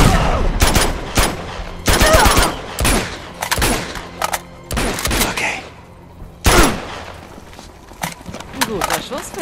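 Bursts of rapid gunfire in the video game Uncharted 2: Among Thieves crack out in clusters, loud and close, with brief pauses between volleys and voices shouting in German over the shooting.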